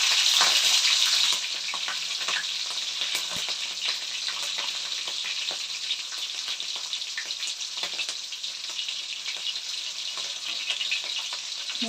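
Green chillies frying in hot oil for egg rice, a steady dense sizzle and crackle that runs continuously and loudly, with small pops scattered throughout.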